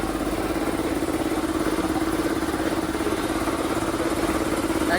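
The electric drive motor of a compressor runs steadily, a loud continuous hum with a mechanical clatter, unbroken for the whole stretch and with no talk over it.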